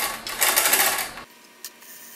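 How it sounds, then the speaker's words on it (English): A bicycle chain running through a plastic chain-cleaning tool gives a fast, steady mechanical whirring and clatter for about a second, then cuts off abruptly, leaving a faint tick and quiet background. "So I'm just going to run the chain through here just a few more times just to make sure it's nice and clean"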